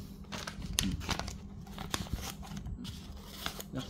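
Japanese white-steel scissors snip through test paper with a series of quick, crisp cuts and crinkles, fairly faint and close, with no voices.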